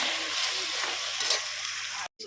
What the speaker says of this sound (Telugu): కొత్తిమీర ఇవన్నీ వేసి బాగా కలుపుకుంటున్నాం